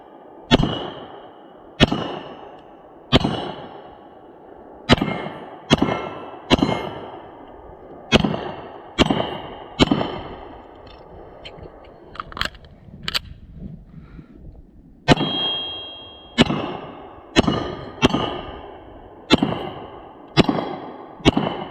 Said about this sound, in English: We'll take our first shots with the X10, see where she's hitting.